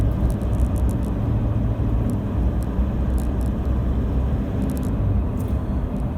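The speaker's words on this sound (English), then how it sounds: "you might even hear a bit of a rattle now" Toyota Hilux diesel engine with old injectors idling, a steady low rumble with a faint rattly texture running continuously throughout, fairly loud and close, no talking.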